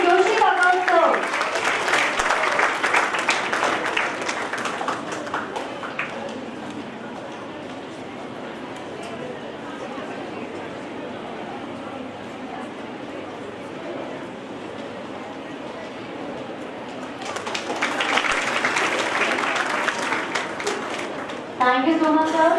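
Conference audience applauds a professor invited onto the stage, with loud clapping at the start, a quieter stretch with talk over it, then a second strong burst of clapping near the end.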